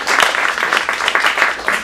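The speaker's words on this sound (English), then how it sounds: "And I love that applause." An acting-showcase audience applauds in a room, a dense stretch of steady clapping from many hands that stays fairly even before easing slightly at the end.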